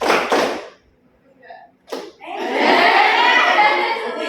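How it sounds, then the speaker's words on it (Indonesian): Schoolchildren in a classroom clap a single-and-double clapping pattern: two quick sharp claps, a pause, one more clap, then a longer stretch of scattered, overlapping group clapping. "tepuk tunggal, tepuk ganda"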